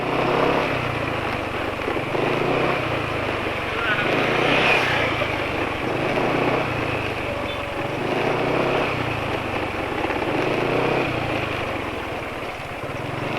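Motorcycle engine running on Pertamax fuel with a 2T oil additive and Axson 10W40 full synthetic oil, revving and then letting the RPM fall away quickly, a steady close drone throughout with background noise.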